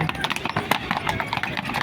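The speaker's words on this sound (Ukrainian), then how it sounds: "Ух, коні подивіться." Horses' hooves clip-clop on pavement as royal carriages pass, a brisk, close rhythm of hoof strikes with people talking over them.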